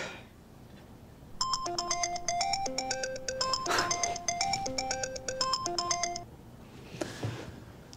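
A phone ringtone for an incoming call plays as a melodic repeating electronic tune, loud and close for about five seconds before cutting off, with quiet room ambience around it.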